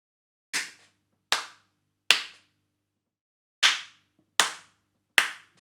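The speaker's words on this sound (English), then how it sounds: "And I just clap my hands there." Six sharp hand claps picked up by a laptop's built-in microphone, arriving in two groups of three with a pause between, each crisp, close and alone, with a quick decay.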